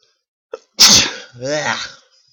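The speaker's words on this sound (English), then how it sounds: "Sorry about the sneeze." One close, forceful sneeze preceded by a quick gasp, then a drawn-out voiced groan afterward, with quiet before and after.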